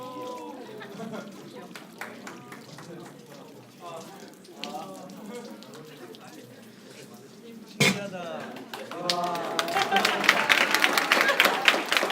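During a church sermon, someone talks steadily, and then a burst of brisk clapping rises partway through and continues under his voice until the end.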